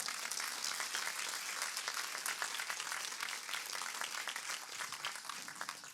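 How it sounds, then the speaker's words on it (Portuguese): Congregation applauding during a church service, a steady, fairly distant wash of clapping hands that continues evenly without breaks. "Aplauda ao Senhor."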